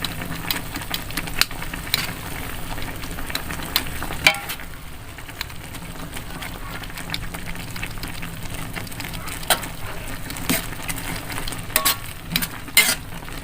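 Noodles stir-fried in a wok for Indonesian mie kuah, cooked street-vendor style, give a steady, fairly quiet sizzle broken by scattered stirring clicks and scrapes, with no talking.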